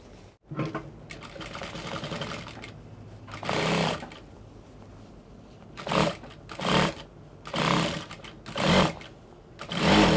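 A sewing machine runs in several separate bursts while stitching a V waistline seam on a basque bodice, each run a steady close whir with short pauses between, no talk over it.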